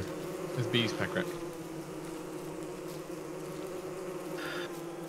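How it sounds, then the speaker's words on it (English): A continuous buzzing swarm of killer bees in the video game Don't Starve Together hums throughout, steady and close, with a few short higher-pitched game blips over it. "So you were referring to the killer bees"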